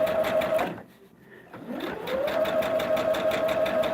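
A sewing machine runs steadily while stitching a table topper, a close, even mechanical whir with a rapid needle rhythm that pauses briefly and then starts up again.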